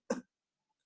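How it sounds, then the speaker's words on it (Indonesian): A single short, close cough voiced for an ailing mother in a read-aloud children's story, one brief throaty burst followed by silence. "Ibu Joke-Joke pun terbatuk-batuk."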